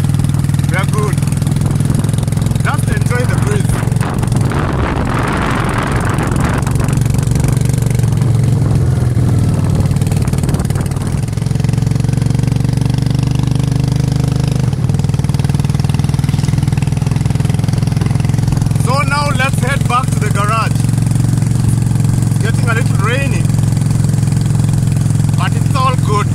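A motorcycle engine runs steadily and loudly throughout a ride, with a constant low drone and some shifts in pitch as gears change, while people talk over it at times.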